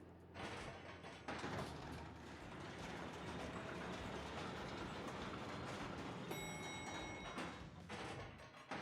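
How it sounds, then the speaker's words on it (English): A train ride in Paper Mario: The Thousand-Year Door on the Switch: steady rolling rail rumble with clickety-clack wheel noise, continuous and fairly quiet, a brief chime of bright tones partway through, no speech. "we can basically get back on the train and get on the road to Poshley Heights"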